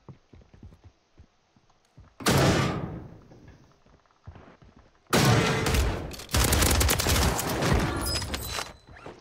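Shotgun blasts in the video game Call of Duty Warzone: a single loud boom, then a heavy burst of rapid, overlapping shots that carries on for several seconds, close and forceful.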